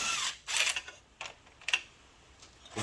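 Metallic clicks and ratcheting scrapes of a 14 mm wrench working a bolt loose on a 2nd-generation Suzuki SV650 motorcycle, in short bursts with quiet gaps, close by and fairly quiet.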